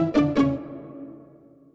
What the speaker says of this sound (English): Then we got this pizzicato.